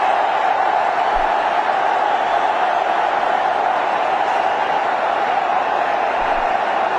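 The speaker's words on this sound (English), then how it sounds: "The crowd is really enjoying." Steady roar of a large cricket stadium crowd during a one-day international, broad and continuous with faint whoops and cheers, heard from a distance without breaks.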